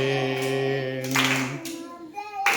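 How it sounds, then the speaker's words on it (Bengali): People clap their hands along to a Bengali Christian devotional song, a few sharp bursts of clapping cutting through the sustained singing voices. "হাততালি দাও সবাই"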